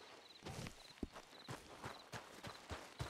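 Horse hooves clip-clop in a steady walking rhythm inside a western video game, with soft regular thuds over faint ambient background.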